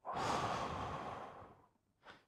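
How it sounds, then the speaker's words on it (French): A person draws one long, deep breath that rushes out loudly and fades over more than a second, followed by a short, softer intake, with no speech. "Attends, une respiration."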